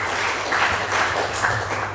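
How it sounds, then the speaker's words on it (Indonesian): A church congregation applauds during a worship service, a short, dense burst of many hands clapping together in a large room. "Kasih tepuk tangan untuk Tuhan."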